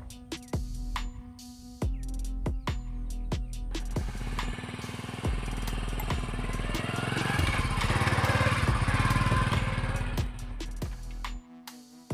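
A motorbike engine hums steadily while riding, building slightly in loudness midway, with periodic clicks and knocks throughout.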